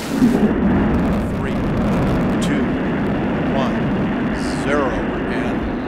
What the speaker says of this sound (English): liftoff of Space Shuttle Atlantis on a mission to build, resupply, and to do research on the International Space Station